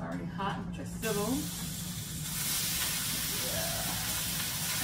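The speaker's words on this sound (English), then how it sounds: "It's already hot with the sizzle." Beef sizzling in a hot skillet turned up to high, a steady bright hiss that rises and fills in after a brief voice at the start and then continues evenly.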